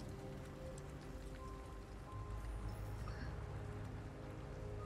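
Steady rain in the video game Detroit: Become Human hissing and pattering across surfaces, a continuous wash of noise with a low rumble underneath and no voices.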